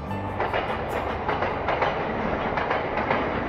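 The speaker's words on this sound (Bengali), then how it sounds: "দূর থেকে একটা গুম গুম শব্দ পাওয়া যাচ্ছে, ট্রেন আসছে।" A train rumbles and clatters steadily, a rhythmic clickety-clack at moderate distance, used as an audiobook sound effect with no voices over it.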